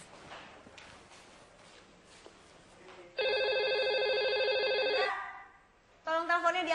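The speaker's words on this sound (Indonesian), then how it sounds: "Tolong teleponnya diangkat dulu dong." A telephone rings in a scene from an Indonesian TV drama, sounding two long bursts of steady electronic trilling, loud and close, after quieter background noise.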